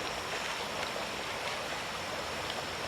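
Water pours steadily into a small Esbit backpacking pot at a camp cooking setup, a soft, continuous splashing trickle that stays even and fairly faint.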